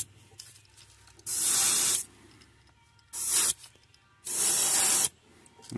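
Airbrush spraying black paint onto a threadfin shad fishing lure, blowing in three loud hissing bursts of about a second each that sputter unevenly, with quiet gaps between them.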